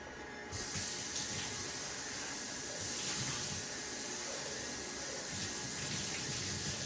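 Running water rinsing out a juicer, a steady close hiss and splash that holds for several seconds after starting abruptly.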